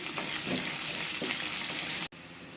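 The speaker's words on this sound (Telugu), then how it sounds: "ఇప్పుడు ఆనియన్ వేసి ఇవి కూడా మంచిగా బ్రౌన్ కలర్ వచ్చే వరకు ఇలా కలియపెట్టుకుంటూ ఉందాము" Onions sizzle steadily in hot oil, with a spoon scraping and stirring through them in a few soft strokes before the sizzle briefly cuts out and resumes, close up and continuous.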